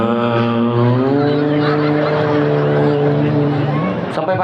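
A voice imitates a ship's horn as loud snoring, a sustained nasal honking tone held for about four seconds in front of an audience.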